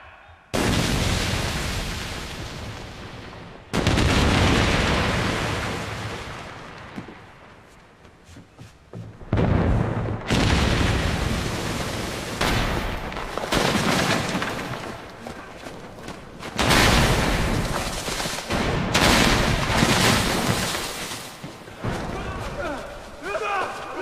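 Cannon fire in a pirate battle: a series of heavy, loud booms at irregular intervals, each followed by a long rumbling decay, with voices and battle noise running between the blasts.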